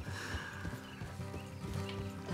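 A horse in the Red Dead Redemption 2 video game snorts and clops its hooves in a steady, close rhythm while the in-game soundtrack plays underneath.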